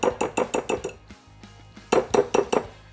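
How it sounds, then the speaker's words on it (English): A metal whisk taps apple fritter batter off against a mixing bowl, giving two quick bursts of about five sharp, ringing clinks each, separated by a short pause and heard up close with no talk. "Just get all that batter off of the whisk."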